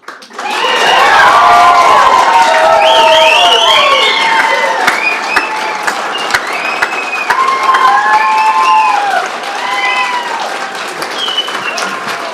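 Loud applause and cheering fill a meeting room after a study commission vote passes, with clapping, whoops and excited voices sustained for over ten seconds and easing slightly toward the end.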